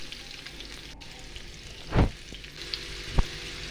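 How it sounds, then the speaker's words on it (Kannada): Onions and green chillies fry in a pan for aloo masala, a soft continuous sizzle broken by a couple of sharp stirring scrapes and a clink close up. "ಇದಿಷ್ಟು ಸ್ವಲ್ಪ ಉಳ್ಳಾಗಡ್ಡಿ ಮೆಣಸಿನ್ಕಾಯಿ ಅದು ಎಲ್ಲ ಸ್ವಲ್ಪ ಫ್ರೈ ಆಗಲಿ."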